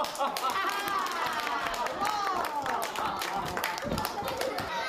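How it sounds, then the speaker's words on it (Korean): Children in the audience at a winter children's theatre festival performance clap along in a steady, rapid rhythm, loud and continuous, with young voices and laughter mixed in throughout. "박수 치면서 웃어볼까?"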